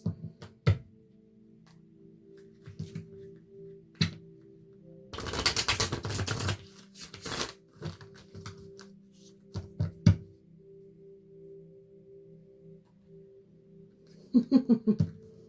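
A deck of reading cards is handled and shuffled at close range. One dense riffling burst comes midway, surrounded by sparse soft taps and flicks on a quiet background.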